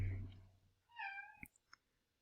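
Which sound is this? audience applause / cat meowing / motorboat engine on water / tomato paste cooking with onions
cat meowing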